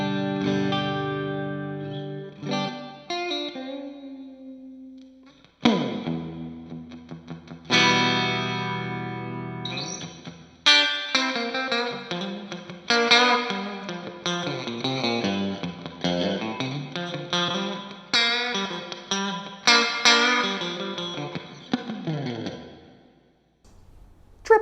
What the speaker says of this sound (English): Now let's max out that reverb.